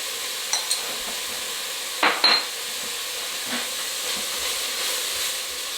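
A spoon stirs Turkish red lentil soup in a pot over steady hissing, with a few sharp clinks of metal against the pot rim early on, close and moderately loud.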